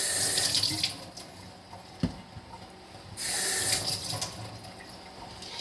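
Tap water runs into a kitchen sink while potatoes are rinsed, a steady close hiss that swells louder in two stretches amid faint handling knocks.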